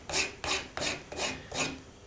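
Five steady back-and-forth rasping strokes of a coarse wood rasp shaping a knife handle, evenly paced and close by, with brief pauses between each pass.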